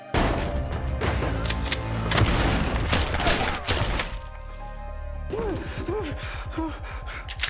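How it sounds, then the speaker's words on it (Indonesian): Gunfire from a shootout in an action film, with dense bursts of shots and impacts layered over loud music and effects for the first four seconds, then a quieter stretch of scored sound. "terjadilah aksi tembak-tembakan"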